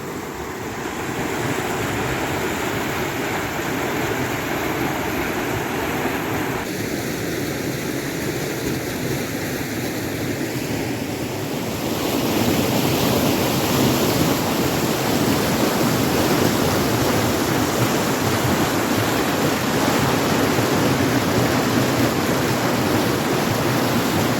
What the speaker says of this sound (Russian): Что это водопад